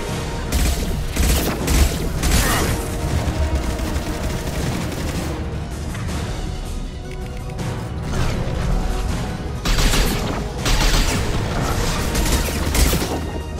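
Sustained heavy gunfire in Mass Effect 2: loud, continuous volleys of shots with booms and crashing impacts throughout, swelling again after a brief easing midway.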